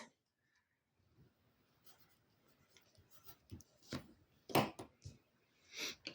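Colour pencil writing a word on paper, a soft close scratching in short strokes that grows louder toward the end, with no talking.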